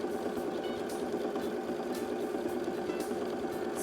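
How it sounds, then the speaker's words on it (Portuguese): Sewing machine stitching fabric for an Easter rabbit clock craft, a continuous even mechanical whir with fast rhythmic ticking, moderately close and steady throughout, no talking. "Também terminei de costurar."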